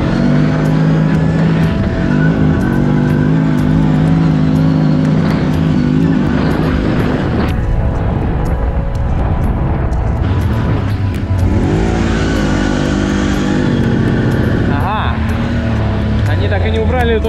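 A CFMOTO X10 one-litre motorcycle is ridden on the way toward forest mud, its engine loud and close, revving up and down in rising and falling sweeps through gear changes.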